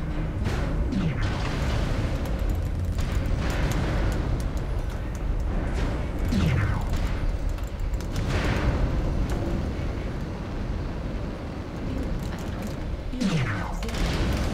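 Incoming missile explosions in a mech combat video game: a dense, continuous roar of booming blasts and rumbling impacts, loud throughout, with a few brief descending whistles rising over the din.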